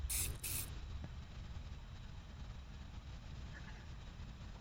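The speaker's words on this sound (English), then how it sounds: "we decided to spray the hell out of that vent, just to be on the safe side" Two quick bursts of poison spray hiss loudly into a shelter vent in the survival game 60 Seconds, followed by a low, quiet rumble.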